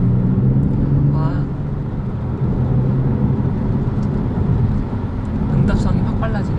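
Kia Stinger 3.3 Turbo GT in sport mode, its engine a steady loud low drone from inside the cabin throughout, with faint voices over the top.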